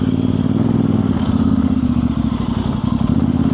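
A motorcycle engine drones steadily and close on a road in Morocco, a continuous throaty rumble with faint rattles, no voices.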